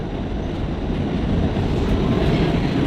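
Subway train passing a station stop, a steady, loud rumbling roar of wheels and cars, close by and continuous, with no voices over it.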